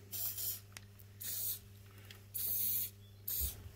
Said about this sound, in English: Okay, now we need some silicone spray on that rubber.